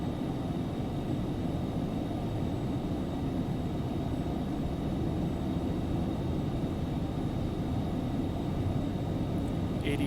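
Twin jet engines of an Embraer Phenom 300 at takeoff thrust in the X-Plane 11 flight simulator, a steady loud roar with broadband hiss held evenly throughout, no talk.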